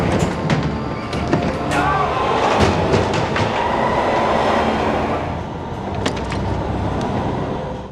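A subway train in an underground station, heard as a film scene: a steady loud rumble of rail cars with clattering clicks and sharp metallic transients throughout, no speech standing out.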